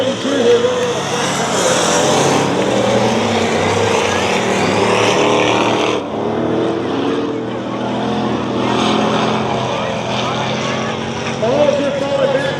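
Dirt track race cars roar around Dirtona Raceway in a loud, continuous engine drone that swells and shifts as cars pass, with a commentator talking over it.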